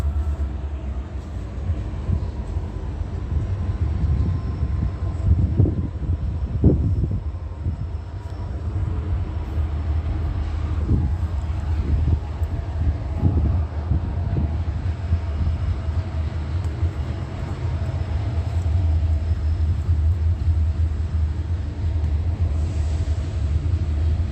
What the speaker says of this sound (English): this is just a raggedy train that's running back and forth on the tracks